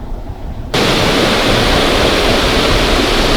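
A large creek flows in a steady, loud broadband rush, the water noise starting abruptly and continuing evenly without any talk.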